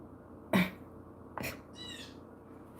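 A bird calls outdoors with a brief, faint chirping phrase near the middle. It sits between two louder, broadband bursts that sound like coughs or knocks against a quiet background.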